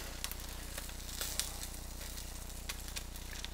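Butter melting in a hot pan before rice goes in gives a quiet, steady sizzle with scattered small pops and crackles, heard alone with no talking.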